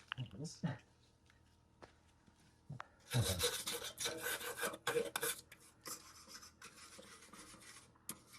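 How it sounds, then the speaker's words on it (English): A hand brush scrubs thicker rust on the undercarriage of a Toyota FJ Cruiser, close rasping strokes in irregular bursts after a quieter start, with a few scattered knocks. "a little bit thicker rust here and there, so grab my brush for that"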